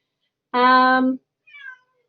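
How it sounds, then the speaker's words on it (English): A house cat on the floor lets out one loud, drawn-out meow close by, then a shorter, softer rising meow a moment later, with no talking over it. "He's just meowing on the floor like a little pest."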